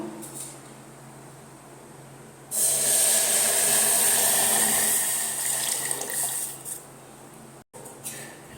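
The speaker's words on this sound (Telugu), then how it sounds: "ఆ నీళ్ళని పోస్తున్నాను." Measured water poured into a pot of fried rice and moong dal for sweet pongal, a loud steady rushing splash lasting several seconds before tapering off, close and without talk.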